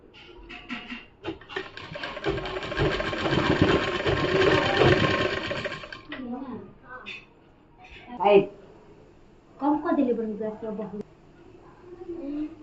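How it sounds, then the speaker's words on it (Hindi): A sewing machine stitches a lace edge with white thread onto a gathered frock, whirring steadily for about five seconds before stopping, followed by a few short bursts between a woman's spoken instructions. "अब इस पे मैं सिलाई लगा रही हूँ वाइट धागा से"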